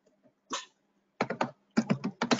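Quiet computer mouse clicks and keyboard typing come in short, sharp bursts: a single click, then a few quick runs of keystrokes separated by silence.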